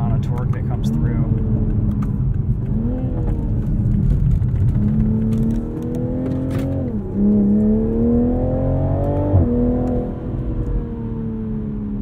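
A 2021 Toyota Supra 3.0 Premium driven in manual mode, its engine droning steadily from inside the cabin with rising and falling pitch as it pulls through the gears, a shift step audible near the end.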